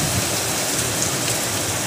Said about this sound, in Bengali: দেখো কী পরিমাণে বৃষ্টি শুরু হয়েছে, বুঝতে পারছো?